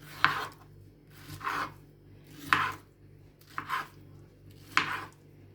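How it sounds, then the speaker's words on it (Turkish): A knife slices through peaches on a board, about five separate cuts at uneven intervals, each a brief scraping thud, close by with no talking. "Şeftalileri böyle göz kararı dilimleyip pişirmek için tenceremize atalım."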